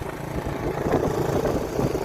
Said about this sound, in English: SP200 is pretty much tuned up. It's idling a little high